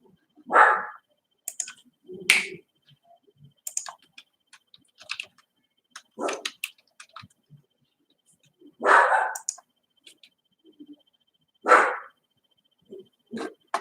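A dog barks in sharp, spaced bursts at a moderate distance, with quiet clicking and small tapping sounds in the gaps between barks.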